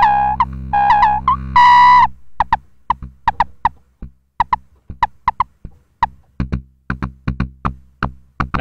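Squelchy, resonant synth groove through a Metasonix RK6 resonant lowpass filter: a few sustained filtered tones, then a run of short, clicky plucks in a bouncy repeating rhythm.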